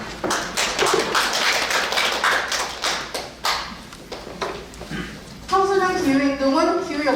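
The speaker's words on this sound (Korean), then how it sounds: "힘찬 박수로 모시겠습니다." A rally audience at a protest against POSCO in Myeongdong claps in a brisk, scattered burst that fades, then a speaker's voice takes over near the end.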